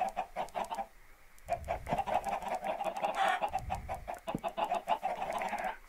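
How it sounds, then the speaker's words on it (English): A crowd of chickens in Minecraft clucks continuously, many overlapping short bursts in a steady busy rhythm, moderately loud and without talk. "And we've got a ton of chickens that say that they wanted to be special."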